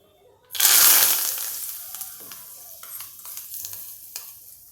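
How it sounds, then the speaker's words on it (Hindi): A loud burst of sizzling as hot oil tempering hits chana dal, then crackling and spattering fade gradually over a few seconds. "मैं ये तड़का इस चने की दाल पर डालूंगी"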